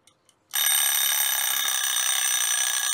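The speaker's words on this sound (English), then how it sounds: "There's our timer. Our 1 hour is up." A one-hour timer alarm goes off after a couple of faint clicks, then rings loud and continuous with a steady, bright electronic tone that holds without pause.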